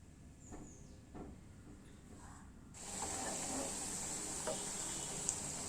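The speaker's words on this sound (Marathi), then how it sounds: "तेल गरम होण्याकरिता ठेवलेलं आहे यामध्ये सोडूया" Food dropped into hot oil for frying, a quiet room tone that gives way to a steady, moderate sizzle which holds to the end, with a faint clink near the close and no voices.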